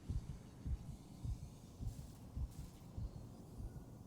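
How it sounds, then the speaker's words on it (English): Player character Isaac Clarke's heartbeat in the 2023 Dead Space remake: low, muffled thumps pulsing in a steady rhythm, about two beats per second, over a quiet ambient hum. "Listen to Isaac's heartbeat."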